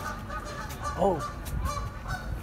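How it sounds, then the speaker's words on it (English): Canada geese honk outdoors, with one clear nasal call rising near the middle over steady background noise and other faint calls around it. "where are those Canada geese?"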